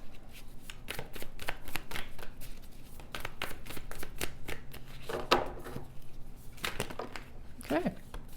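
Tarot cards are shuffled in a steady run of riffling, flicking card noise, with a few softer slaps as cards are drawn and laid down, and no talk.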